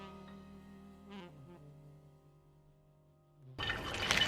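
Water runs out of a tube from a bowl of wool dye. A low humming tone comes first, then a sudden, close gush of running water fills the final second.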